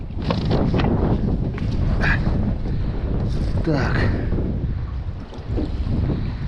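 Strong wind buffets the microphone on a lake while fishing from a small boat in bad weather, a loud continuous rumble with gusts and splashing; someone speaks briefly over it.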